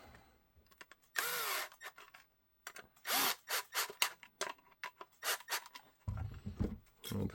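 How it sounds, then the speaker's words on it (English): Screw gun driving screws into a vac mold for a Rock 5.7 TLR1, in short whirring bursts of varying length separated by pauses, close and fairly loud. "And screw gun."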